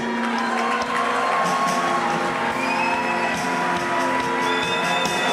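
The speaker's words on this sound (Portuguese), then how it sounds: "Dale fuerte ese aplauso" A crowd at a Brazilian healing service applauds and cheers loudly and continuously, with whoops rising over a dense, steady wall of clapping and voices.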